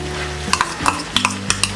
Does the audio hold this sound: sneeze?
no